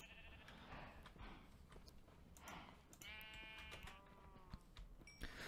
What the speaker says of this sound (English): I did get some sheep here together off camera.